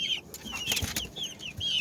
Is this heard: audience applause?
no